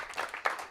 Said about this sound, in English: another round of applause for Giuseppe.